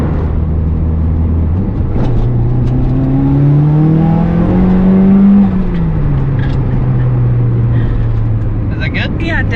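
A turbocharged Mitsubishi Lancer CE with a 4G93 engine and a heavy-duty clutch accelerates on a test drive, heard from inside the car. Engine drone rises steadily in pitch through the gears, then drops back, loud and continuous.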